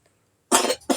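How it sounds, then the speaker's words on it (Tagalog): A baby coughs in two quick bursts after a near-silent start, each cough close and fairly loud. "So, inuubo pa si baby."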